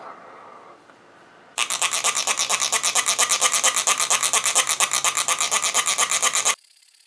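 Dry material is shaken through a sieve in a continuous, rhythmic raspy rustle lasting about five seconds, close and fairly loud, with near silence before and after.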